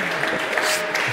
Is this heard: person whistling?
no